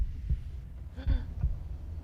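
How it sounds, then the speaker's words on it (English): A heartbeat sound effect plays during a Dungeons & Dragons 5E tabletop session: three deep, muffled low thumps, spaced unevenly over a soft background hum, with no voices. "But yes, Divot, you are keenly aware of a heartbeat on the other side of this wall."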